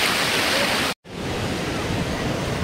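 Ocean surf at Puri beach roars as dense, steady broadband noise, loud and close with wind mixed in, broken by a brief cut to silence before the wash resumes.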